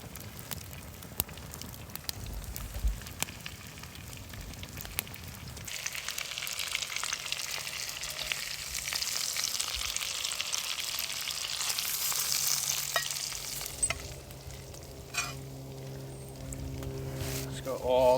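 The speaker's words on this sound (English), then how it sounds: "So my eggs are getting close to done." Eggs frying in a cast iron pan for a ham sandwich, a steady close sizzle that swells partway through, with someone talking over it.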